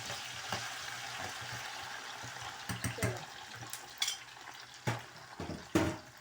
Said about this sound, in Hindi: इसके साथ में थोड़ी सी चिप्स को फ्राई करने लगी